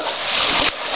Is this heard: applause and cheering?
no